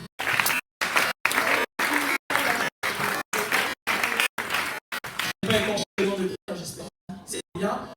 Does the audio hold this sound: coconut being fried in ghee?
no